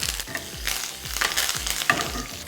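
Mustard seeds, cumin, dried red chillies, cinnamon, cloves and curry leaves crackle and sizzle in hot ghee for Gujarati dal, a close, steady frying hiss with small pops and a few soft knocks, no one speaking.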